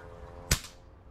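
An air rifle fires a resized Astro pellet at a target 25 yards away, giving a single short, sharp crack. A steady background hiss runs under it.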